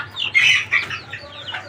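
Silkie chickens clucking nearby in short, high bursts, a few quick calls tumbling over one another against a quiet background.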